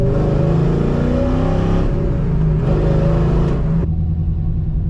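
A loud, lumpy cammed Corvette engine idles and revs in steady rough pulses, close by, the choppy rumble surging and then easing off near the end.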